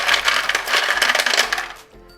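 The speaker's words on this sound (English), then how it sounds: "and here goes few ice cubes" Hard clattering of ice cubes tumbling into a container of water and cream for butter making, a rapid jumble of bright knocks lasting under two seconds, then quiet.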